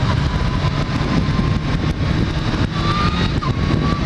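A Kawasaki H2 supercharged motorcycle accelerates hard, its loud, steady engine roar broken by quick shifter gear changes, heard close over wind noise.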